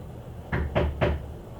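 Three firm knocks on a hotel room door, evenly spaced and close by, standing alone in a quiet room.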